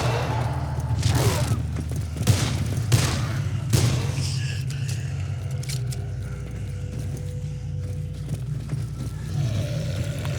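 Gunfire in Dead Island: Riptide, a handful of sharp, loud shots spaced irregularly over the first few seconds, then quieter clanks and thuds over a low, steady rumble.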